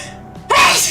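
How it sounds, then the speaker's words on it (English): A single close, sharp sneeze bursts out after a short quiet intake of breath. "I'm about to sneeze."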